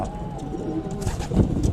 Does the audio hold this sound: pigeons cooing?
yes